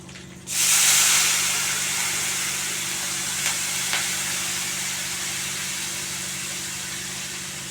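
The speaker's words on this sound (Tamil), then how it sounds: "இப்போ நாம் இந்த புளி தண்ணியை இதில் சேர்த்துக்கலாம்" A loud burst of sizzling hiss as tamarind water hits a hot pan, then a steady bubbling simmer that fades slightly over several seconds, with no talking.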